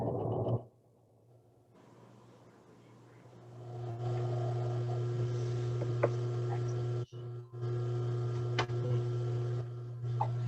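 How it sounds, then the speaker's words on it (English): A sewing machine stitches a quarter-inch seam on a quilt block, its motor starting after a quiet pause and running as a steady, close mechanical hum with faint ticking. "I'm sewing a 1/4 inch from the edge."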